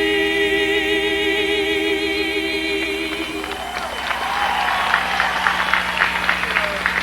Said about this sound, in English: a big round of applause for Kendall and Angèle today